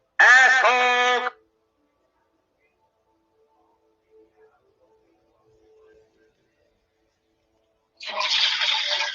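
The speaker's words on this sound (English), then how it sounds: "heard a toilet flush" A toilet flush rushes loudly and close for about a second at the start, falls silent for several seconds, then a second burst of water noise returns near the end.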